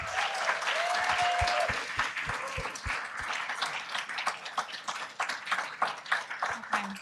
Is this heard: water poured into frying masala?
no